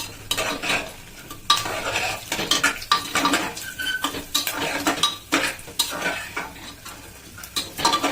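Cashews and peanuts fry in a pan as a utensil stirs them, giving rapid clattering scrapes against the metal over a light sizzle, close and busy throughout.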